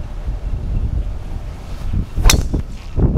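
Breeze blowing across an outdoor golf course in Texas, buffeting the microphone with a loud, steady low rumble, broken by a couple of brief sharp knocks near the end.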